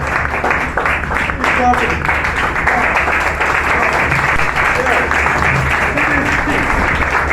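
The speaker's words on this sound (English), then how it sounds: "Let's give them a round of applause." Audience applause after a talk on the health benefits of eggs and chickens: steady, dense clapping from a crowd that stays loud and even throughout, with faint voices underneath.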